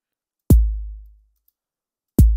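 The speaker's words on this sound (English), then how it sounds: "I like to layer a subtle hi-hat over my kicks when I'm making them" Synthesized kick drum layered with a subtle hi-hat, built in Massive, struck twice: a sharp, loud attack with a booming low tail that decays over most of a second, then a second hit.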